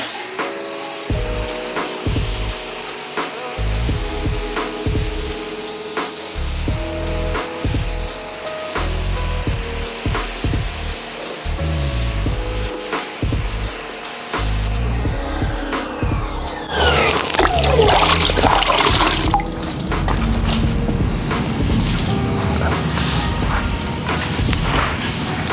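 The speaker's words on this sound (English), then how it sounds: "I'm just washing the actual side and rear of the vehicle, not the roof." Water sprays and splashes along the side and rear panels of a vehicle during a hand wash, steady and close, with rubbing strokes and a louder, harsher burst of spraying partway through.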